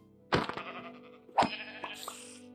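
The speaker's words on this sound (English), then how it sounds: "you stinking sheep." Two loud, wavering sheep bleats from a video game, each a short rising cry followed by a fading tail, with a faint tone at the end.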